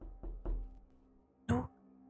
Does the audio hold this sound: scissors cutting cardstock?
no